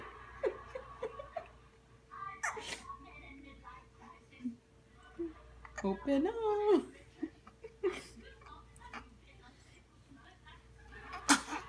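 A baby sneezes in a home setting, a short sharp burst heard among several brief broadband bursts, with adults talking and chuckling around it.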